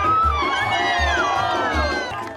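A crowd at a small-town festival cheers and shouts for tug-of-war teams of kids, women and men, with children's voices mixed in. The cheering runs continuously and loudly over a steady low rhythmic thumping.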